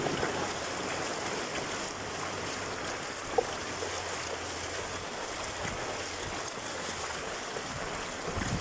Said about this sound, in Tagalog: Kasi ang lakas talaga ng ulan.